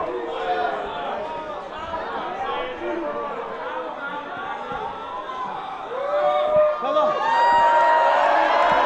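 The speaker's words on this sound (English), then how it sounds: "Saim rallies this capacity crowd at the skate park" A capacity crowd at a skate park wrestling show cheering and whooping steadily, swelling louder toward the end, with an announcer talking over the noise.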